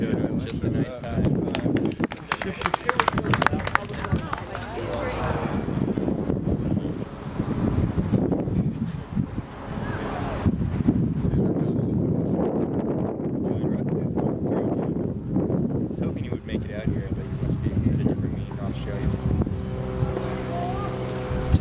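Gusty wind buffets the microphone at an outdoor discus competition, a steady broadband roar that rises and falls throughout while people talk nearby.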